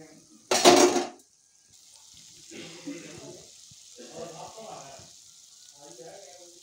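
Gulab jamun fry over a low flame with a soft sizzle, opened by a brief loud clatter of a utensil against the pan. Quiet stirring scrapes come and go in short bursts.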